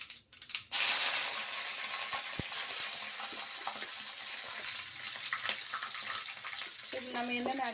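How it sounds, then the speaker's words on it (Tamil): Mustard seeds, dried red chillies, curry leaves, chana dal and urad dal hit hot oil in a pan and sizzle loudly and continuously, with a few faint pops and clinks. No one speaks. "எண்ணெய் நல்லா கொதிச்சுன்னா கடுகு போட்டு வரமிளகாய், கருவேப்பிலை, கடலைப்பருப்பு, உளுந்தம் பருப்பு எல்லாம் போட்டு"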